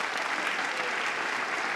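Steady audience applause in a comedy show staged as a mock parliament, a dense, even wash of clapping held at a moderate level for the whole stretch with no voices over it.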